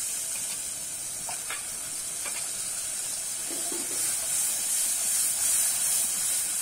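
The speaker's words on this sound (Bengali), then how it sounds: "এবারে কিন্তু হালকা করে নেড়ে কষিয়ে নেব।" Pointed gourd in poppy seed paste fries in a pan with a steady hiss and sizzle, with a few soft stirring strokes now and then, close and fairly quiet with no talk.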